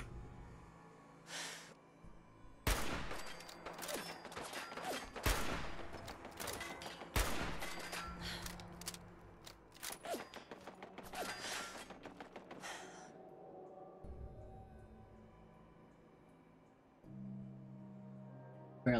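Gunfire in the video game Fallout 4, with a series of sharp, loud shots spaced irregularly over a quiet backdrop, some in quick bursts, and fainter game sounds between them.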